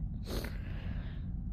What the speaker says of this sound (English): I'm sniffling.